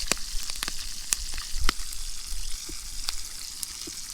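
Battered brook trout frying in a pan outdoors, a steady soft sizzle with scattered sharp crackles and pops throughout, no talk.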